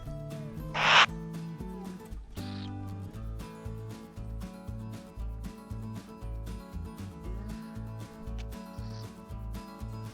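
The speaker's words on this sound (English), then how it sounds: "this noise appears to be a cautionary sound between the owls" A brief raspy hiss, a burrowing owl's cautionary call, sounds once, then again more faintly later, over a low pulsing, rhythmic background drone.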